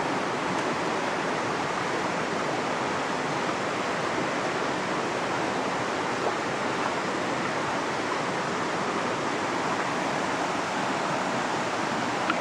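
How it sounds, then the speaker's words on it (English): Creek water flowing steadily as hikers walk up the stream bed, a dense, continuous rushing wash that stays close and even for the whole stretch, with no talking. "we are walking up the creek"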